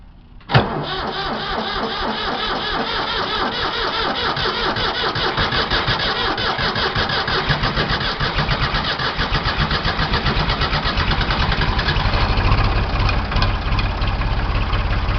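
A Ford 335 industrial tractor's diesel engine starts cold on a frosty morning, catching abruptly after a brief crank and settling into a loud, steady, rough idle that runs on alone close by.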